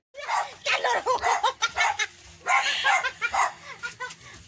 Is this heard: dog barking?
yes